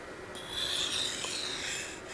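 A steady, gritty scraping as a knife blade strokes back and forth across a wet Naniwa Superstone 400 water stone, soft and close, with no talking.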